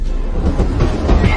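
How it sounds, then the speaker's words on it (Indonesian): A freight train rumbles past in a steady, heavy roar with a rhythmic rattle of wagons, loud and close throughout. "Mereka pun akhirnya kabur menggunakan kereta barang."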